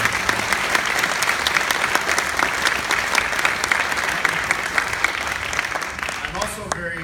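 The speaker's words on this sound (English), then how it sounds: "Let's give them another big round of applause." A big round of applause from an awards-event audience in Los Angeles, loud dense clapping held steadily for several seconds before thinning out at the very end.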